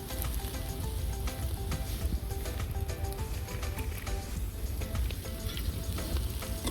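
Maggi masala sizzling steadily in hot oil in a pan while making Kathiyawadi vagharela rotli, a dense continuous crackle with scattered pops throughout.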